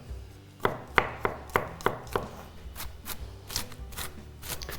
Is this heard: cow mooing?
no